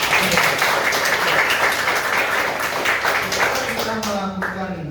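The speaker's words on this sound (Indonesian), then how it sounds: "Kasih tepuk tangan." An audience claps at a lecturer certification session on radiography and radiation protection, a dense, steady patter of hands held throughout, with a voice beginning to talk over it near the end.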